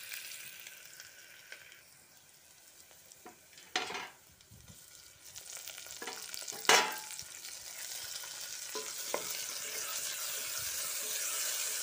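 Tomatoes sauté in a pan with onion, ginger and garlic, a soft steady sizzle broken by a few sharp scraping stirs of the spatula, close and fairly quiet.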